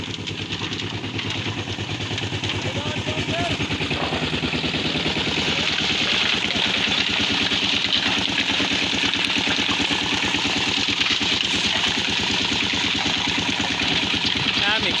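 Tractor engine running at a road construction site, a steady mid-low rumble with rhythmic clatter that holds continuously throughout, fairly close and slightly louder in the second half.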